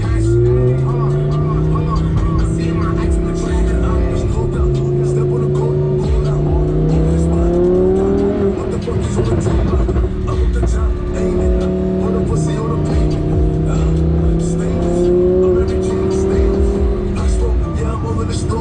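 Lamborghini Huracan with a 5.2-litre V10 accelerating hard on city streets in California, its loud close engine note climbing through repeated rising revs and gear shifts that keep going without a break.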